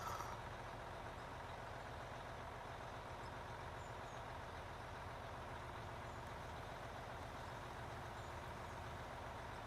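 A heavy mining truck engine drones steadily while driving in a mining video game, a continuous loud rumble with constant low-end hum and no pauses throughout.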